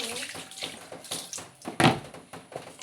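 Peeled cassava is washed by hand in water, with a series of close splashes and sloshing bursts, one sharper splash standing out near the middle.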